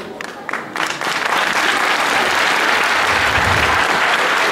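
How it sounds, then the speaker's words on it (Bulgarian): An audience bursts into applause for the Rose Queen contestants at Karlovo, a few scattered claps quickly swelling into steady, full clapping that holds at a constant level. "Елате бързо, за да ви аплодира публиката."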